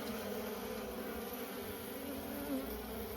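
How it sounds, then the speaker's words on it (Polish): Honeybees buzz thickly around a queen that has landed at an apiary during swarming, making a dense, continuous hum of many wings close by and at an even, moderate level. "Już ją obsiadują inne pszczoły"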